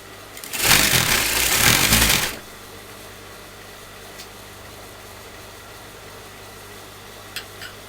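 Sewing machine stitching kurta fabric, a loud rapid mechanical whir of about a second and a half, then stopping into quiet room tone with a couple of faint taps.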